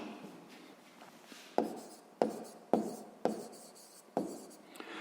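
Pen strokes on paper while working a 6th-grade maths exercise on a square's area, a soft continuous scratch broken by several sharp taps as new marks begin, close and quiet.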